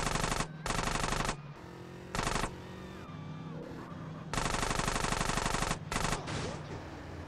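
Video game gunfire in GTA San Andreas comes in several loud bursts of rapid automatic shots, separated by short gaps filled with quieter game sounds.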